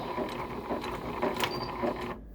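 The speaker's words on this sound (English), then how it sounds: "I'm going to turn back to about a 3-ish stitch length, back stitch to said mark" Sewing machine back-stitching a pillow seam at about a 3 stitch length, a rapid close mechanical whir and chatter running steadily, then stopping abruptly at the end.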